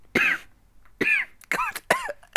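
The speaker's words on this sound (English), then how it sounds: "I really want to cut up all that audio of you coughing" A person coughs and clears their throat in several short, close bursts, about four or five rough hacks with brief pauses between them.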